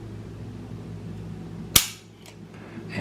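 A Hi-Power pistol with its magazine inserted releases its trigger during a breakaway test. A single sharp, close snap cuts through a quiet room, followed by a faint, brief mechanical tick.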